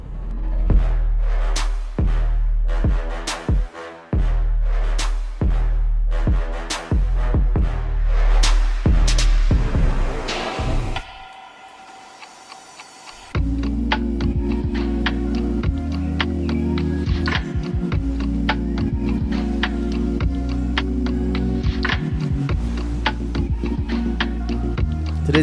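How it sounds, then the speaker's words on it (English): Cleaning a screen printing mesh screen in close ASMR style, a series of sharp ticks and taps at first, a short lull, then a dense continuous scrubbing and rattling texture, loud and near with no talking. "So I thought it'd be fun to do this first little part of me cleaning the screen as ASMR."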